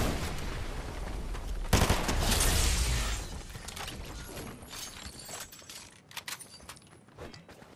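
Sniper rifle fire in a video game: a loud burst of gunfire with a sharp crack, followed by scattered clicks, mechanical clatter and smaller impacts that trail off quietly.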